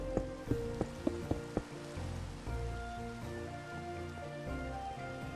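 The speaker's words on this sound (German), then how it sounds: "Ach, es regnet." Rain falls in the Minecraft video game, a steady hiss under a plucked melody with a few sharp percussive notes at the start, fairly faint and with no talking.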